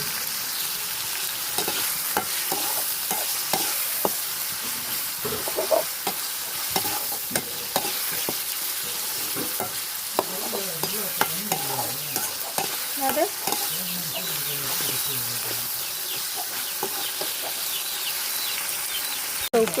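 Steady sizzling of chopped country chicken intestines and liver frying in a pan with repeated scraping and stirring strokes, close up, no voices.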